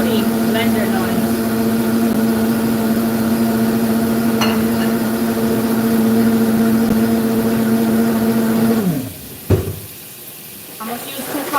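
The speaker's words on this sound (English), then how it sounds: "Sorry for about the smoothie blender noise." A countertop blender whirs steadily as it blends a smoothie with ice in a home kitchen, a loud, even motor whine that holds for about nine seconds and then winds down into quieter kitchen clatter.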